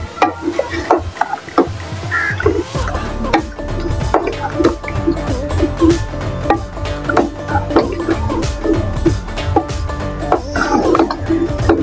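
Yogurt going into chicken karahi in a hot pan, with a busy mix of sizzling, wet stirring and scraping clinks of a utensil against the pan, close up and irregular.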